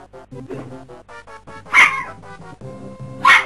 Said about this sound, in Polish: No i teraz pies mi przerywa